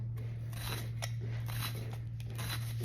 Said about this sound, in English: So I'm just gonna cut it into tiny cubes.